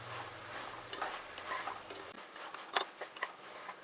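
Vegetables and boiled peas being sautéed in a pan for coconut-milk veg pulao: a quiet sizzle with scattered spoon scrapes and stirring clatters, a few sharper knocks near the end.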